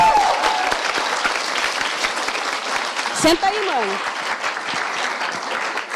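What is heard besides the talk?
audience applause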